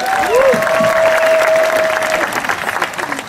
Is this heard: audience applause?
yes